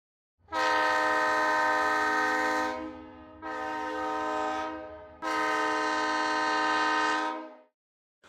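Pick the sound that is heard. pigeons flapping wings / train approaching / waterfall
train approaching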